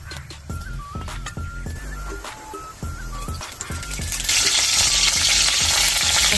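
Val bean pods coated in a ground masala of peanut, salt, chili, garlic and cumin are tossed in a kadhai. Rhythmic spatula clacks sound over a low sizzle that swells into a strong hiss partway through.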